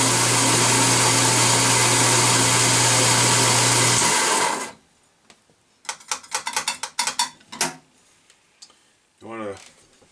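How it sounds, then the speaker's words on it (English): Coffee grinder set to coarse grinds beans for French press coffee, a loud steady whirring roar for about four seconds that stops abruptly, followed by quieter clicks and rattles of handling and a short voice near the end. "I'm going to set my grinder for coarse ground."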